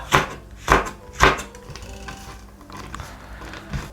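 A knife cuts red chili peppers into rounds on a board: three sharp, evenly spaced chops up close, followed by softer, scattered slicing taps.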